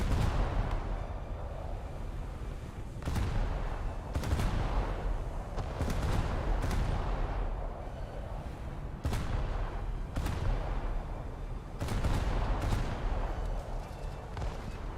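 Naval gunfire from the IJN Kongo battleship in a video game: a series of heavy booming broadside shots roughly every one to three seconds, sharp blasts over a constant low rumble of sea and engine noise.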